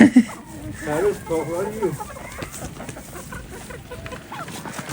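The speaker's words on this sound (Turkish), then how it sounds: "bakın tavukların içindeki Perüz Bey." Chickens cluck and murmur nearby while a person talks over them, with soft scratchy background noise throughout.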